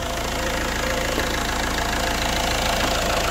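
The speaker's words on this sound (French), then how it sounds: "Donc maintenant on va faire le contrôle et la chauffe moteur" A PSA DV6 diesel engine idles steadily up close, a constant rough clatter with a low knocking rhythm and no voices.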